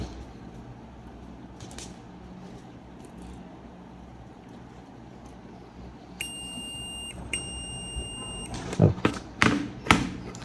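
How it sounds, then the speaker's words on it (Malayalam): A multimeter on continuity test gives a steady electronic beep lasting about a second, pauses briefly, then beeps again for about a second, followed by a few loud handling thumps and clicks close to the microphone. "വർക്കിംഗ് ആണെങ്കിൽ ബീപ്പ് കേൾക്കും."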